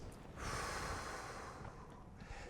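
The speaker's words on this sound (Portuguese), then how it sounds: "Respira assim com a barriga, assim, ó. Diafragma, né?" Slow diaphragmatic belly breath, a steady airy inhale or exhale rising after a brief pause and lasting a couple of seconds, heard up close with no talking.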